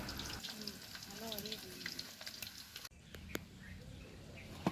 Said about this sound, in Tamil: சிக்கன் நல்லா பொரிஞ்சு வந்துட்டு அதை இப்போ அரிச்சு எடுத்துருவோம்